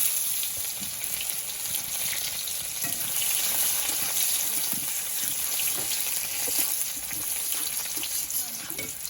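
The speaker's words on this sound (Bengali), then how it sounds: "ওই তেলের মধ্যে দিয়ে দিচ্ছি গোটা জিরে, তেজপাতা, পেঁয়াজ কুচি" Whole cumin, bay leaf and chopped onion fry in hot oil, making a steady, dense, close hiss and crackle that runs unbroken throughout, with no voices.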